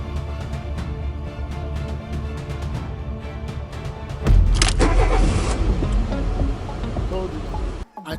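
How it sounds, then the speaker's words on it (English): A car engine cranks and turns over, then settles into a loud, steady idle close by, cutting off abruptly at the end. "Madam, you can start the car now."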